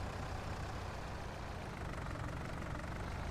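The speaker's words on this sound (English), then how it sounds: "Even though this tractor's got 185 horsepower, it manages fine." A 185-horsepower tractor engine in the Farming Simulator 19 video game runs at a steady, loud drone with a low rumble, continuous and without talk.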